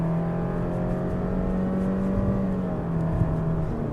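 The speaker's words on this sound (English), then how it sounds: "So if you put your foot in it, it'll go right up to red line in the CVT and then drop down. So it does rev up." A 2018 Subaru Outback with a CVT transmission revs steadily toward red line, its engine drone holding a continuous, fairly loud tone with no gear shifts for about four seconds and no talking.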